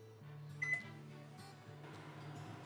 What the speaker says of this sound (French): la prochaine étape, c'est de venir mettre ce plat-là au micro-ondes pour faire fondre les guimauves.